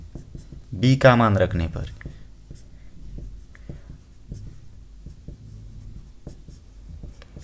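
Hand writing an equation, likely in marker or chalk, heard as a series of short, soft tapping and stroking marks that continue steadily at close range, briefly under a voice speaking Hindi near the start.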